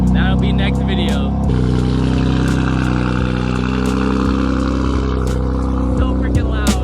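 A BMW F80 M3 engine revs loudly and close by, a continuous rough drone with rising and falling throttle, while someone speaks over it.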